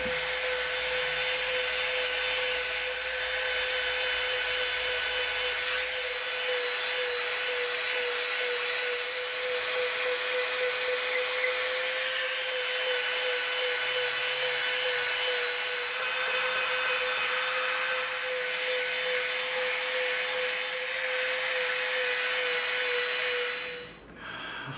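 A continuous high-pitched whine of a small rotary tool with a smoothing bit working EVA foam runs steadily for the whole stretch, close and loud, with no talking.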